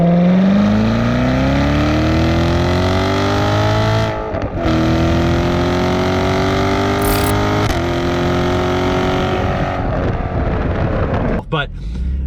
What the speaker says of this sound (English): I love the sound of that Corvette. I mean, come on, it's a V8.